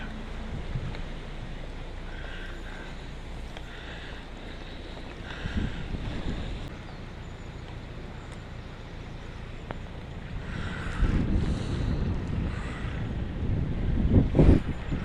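Wind buffets the microphone outdoors, making a constant rumbling roar that swells in louder gusts toward the end, with no one speaking over it.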